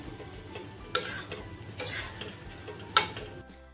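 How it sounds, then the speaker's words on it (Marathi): A spoon scrapes and clatters against the pot while black pea usal is mixed after chopped coriander goes in, with two sharper knocks over a soft background sizzle. "कोथिंबीर घालून परत एकदा छान मिक्स करून घ्यायचंय"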